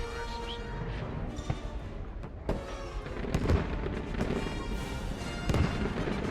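Explosions and blaster fire rumble through a Star Wars clone army battle against droids on Yavin 4 in a video game, dense continuous booming with sharp cracks, loud and close.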